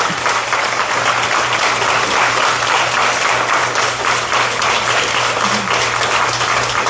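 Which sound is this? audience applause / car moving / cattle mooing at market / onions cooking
audience applause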